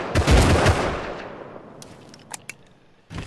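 Video game gunfire during an online raid, a close, loud burst of rapid shots at the start that fades into a decaying rumble, followed by a few sharp distant cracks and another shot at the end.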